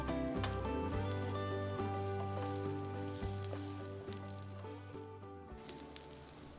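Cut asparagus with a pinch of salt sizzles steadily in olive oil in a pan over low heat, a continuous close crackle with small pops and scrapes of stirring, and no voices.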